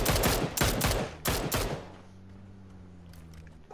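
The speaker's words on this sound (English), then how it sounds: "Don't shoot that loud ass gun too much" Loud bursts of rapid automatic gunfire in PUBG on the snowy Vikendi map, several close, sharp volleys in quick succession before fading into quieter ambient game noise with a low drone.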